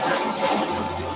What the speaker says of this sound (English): Big waves are slamming against the side of the boat.